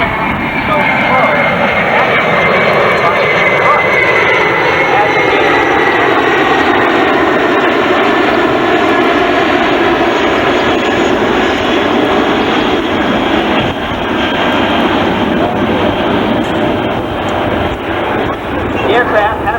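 A Boeing E-4B Nightwatch flies past low and slow at an air show, its loud, steady engine roar filling the whole stretch with a slowly shifting pitch.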